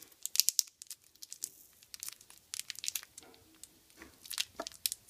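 A small plastic bag being opened by hand gives close, sharp crinkles and crackles in irregular bursts with brief pauses between them, and no speech.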